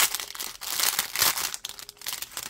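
Paper packaging around a pair of Temu earrings is crinkled and torn open up close, in irregular bursts of loud rustling and crumpling with brief pauses between.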